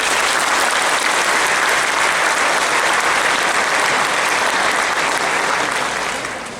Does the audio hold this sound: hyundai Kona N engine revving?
no